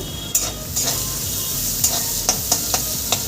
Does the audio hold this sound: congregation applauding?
no